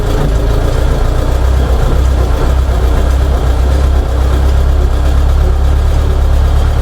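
Diesel engine of a DF 704 tractor running steadily and close by, a loud low rumble held through the whole stretch as the hand throttle is eased up, with no talk over it.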